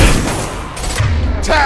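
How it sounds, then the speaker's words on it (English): Impact shot gunfire in the Mass Effect 2 video game, a loud burst of booming shots with rumbling low-end blasts across a short stretch of combat noise. "Firing an impact shot!"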